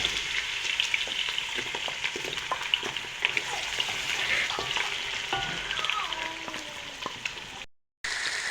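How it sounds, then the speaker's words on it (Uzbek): Potatoes frying in a pan with a dense, continuous crackling sizzle and faint stirring, close and fairly loud, briefly cutting out near the end. "Kartoshkalarımızı kavurup olamiz."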